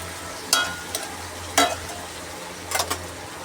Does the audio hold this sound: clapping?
no